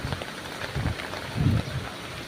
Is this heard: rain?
yes